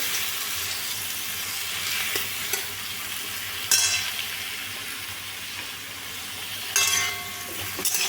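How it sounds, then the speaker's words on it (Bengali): Tomato chutney, made with slightly underripe tomatoes, is stirred and fried with a spatula in a pan. A steady close sizzle runs throughout, with scraping stirs and a few sharper clatters of the spatula against the pan. "ভালো করে নেড়ে নিতে হবে এবার খুন্তি দিয়ে আর একটু ভালো করে নেড়ে নিই"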